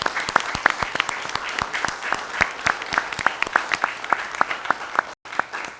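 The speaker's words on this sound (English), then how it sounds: "can we give them a round of applause?" Audience applause for police officers and a commissioner at a city council meeting, made of sparse, distinct individual claps that ring out steadily for about five seconds before a brief break.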